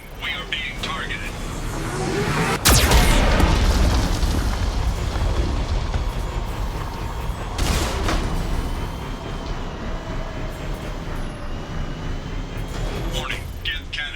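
A Geth cannon fires in the Mass Effect 2 video game: two heavy booming blasts, a few seconds apart, over a rumbling background with frequent voices talking throughout.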